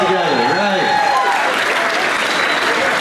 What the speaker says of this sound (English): Let's hear it for those volunteers and the staff that put this together.